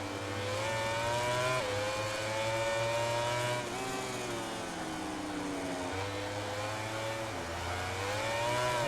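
High-revving MotoGP 18 racing motorcycle engine in a video game, whining steadily near and loud with rising and falling pitch as the spinning rear tyre slips under power, with no talk over it.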